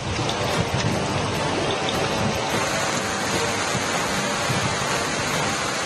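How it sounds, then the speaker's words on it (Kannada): Heavy monsoon rain pours down in Chikkamagaluru in the Malnad hills, a dense, loud and unbroken roar of water that fills the whole time with no pauses. "ಬಾನಿಗೆ ತೂತು ಬಿದ್ದಂತೆ ಸುರಿಯುತ್ತಿರುವ ಮಳೆ"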